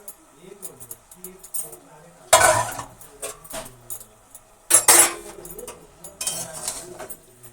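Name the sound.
stirring chicken curry in a pan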